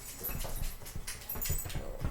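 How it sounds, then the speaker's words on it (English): Dogs just in from the snow pad and scrabble around indoors, with a busy stream of close paw taps and soft whimpers, unbroken by talk. "My dogs just came in from the snow."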